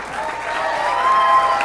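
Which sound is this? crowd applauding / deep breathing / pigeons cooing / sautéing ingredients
crowd applauding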